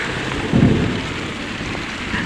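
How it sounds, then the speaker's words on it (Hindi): A sudden heavy downpour hammers steadily outdoors, and a loud thunder rumble rolls through about half a second in before fading back into the constant roar of rain. "और देखिए बारिश शुरू हो गया, अभी इतना ज़्यादा धूप था क्या ही बोले, और अभी तुरंत वर्षा पड़ने लगा।"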